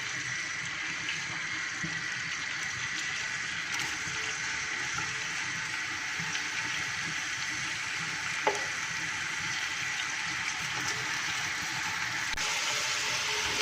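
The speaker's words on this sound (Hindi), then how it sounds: "प्याज मैं फ्राई कर लूँगी," Onions frying in about one and a half cups of oil for chicken biryani, a constant soft crackling sizzle that stays even throughout, with one faint clink partway, no talking.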